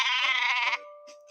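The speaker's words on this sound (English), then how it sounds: ""Baa, baa," bleated the sheep." A sheep sound effect: a single loud, close bleat with a wavering, nasal tone, cutting off after a moment into quiet.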